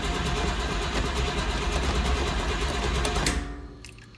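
A car engine with open headers and no side pipes fires up and runs with a loud, raw, rapid crackling rumble that holds steady for several seconds before dropping off abruptly near the end.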